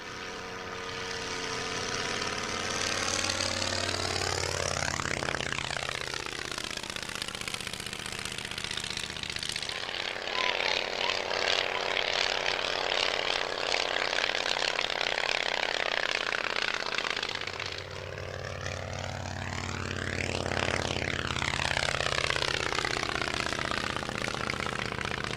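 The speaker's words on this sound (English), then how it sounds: "Six of these aircraft were originally built by Miles and were used for aerobatic displays and demonstrations." A vintage Miles propeller aircraft roars past twice at an air show, each pass swelling loud and close with a sweeping pitch shift as it approaches and recedes, with a steady engine drone in between.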